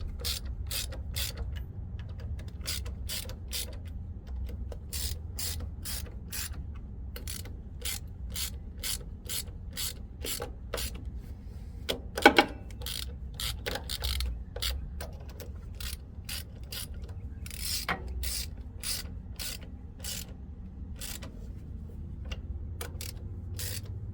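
A socket ratchet clicks in short repeated bursts while a bearing is removed from a CAT HM418C mulcher, its sharp metallic pawl ticks coming in regular rhythmic strokes over a low background hum.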